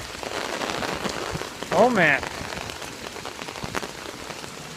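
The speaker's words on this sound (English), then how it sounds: "It's raining." Steady rain pattering on surfaces outdoors during a rainy-day grill session, a dense continuous hiss throughout with a short spoken exclamation briefly rising over it.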